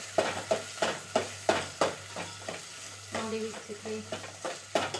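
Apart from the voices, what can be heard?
onions and tomato frying in a pan for chicken biryani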